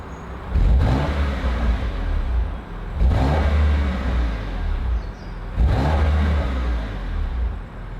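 A BMW M2 Competition in Comfort mode revs three times in quick, evenly spaced blips. Each rise falls back to a steady idle, with no voices present.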